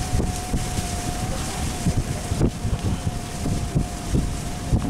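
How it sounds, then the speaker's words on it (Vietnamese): A large boat or barge passing on a river, a steady droning engine hum with a faint tonal whine, mixed with wind buffeting the microphone, continuous and moderately loud. "Cũng khá là dài nha chiếc tàu này."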